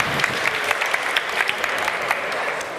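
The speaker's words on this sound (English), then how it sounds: "Round of applause for Watchar." An audience at a startup pitch event claps steadily as a company is welcomed onto the stage, a dense, even burst of applause with a few sharper individual claps standing out.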